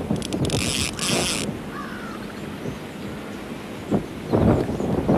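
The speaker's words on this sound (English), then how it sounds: "Oh, this wind's incredible." Strong, gusty wind blows across the microphone beside a river, giving a rough, buffeting rush. A crow caws briefly near the start.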